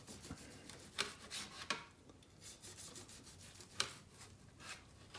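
Grilled lamb backstrap is cut with a knife, giving soft rasping strokes with a few sharper taps as the blade meets the board, quiet and close, in an irregular rhythm without speech.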